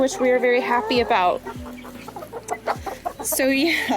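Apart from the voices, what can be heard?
chicken clucking, backyard rooster and hens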